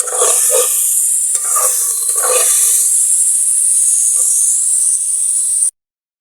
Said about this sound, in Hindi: चिकन को थोड़ा सा फ्राई करेंगे कि वो लहसुन के साथ हो जाए